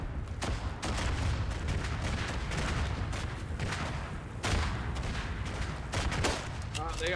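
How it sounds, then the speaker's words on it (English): Artillery fire in the World War I shooter Verdun, a dense barrage of booming blasts and crackling gunfire rolling on continuously, loud and close, with heavier thumps near the start and midway and faint voices under the battle. "They have called artillery on us."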